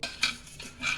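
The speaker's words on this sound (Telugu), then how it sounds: "ఇప్పుడు స్టవ్ వెలిగించుకొని ఒక గిన్నె పెట్టుకున్నానండి" A metal pot is set down on a lit stove while cooking beans curry. Three short metallic clinks and scrapes land close by within about a second, with no talking.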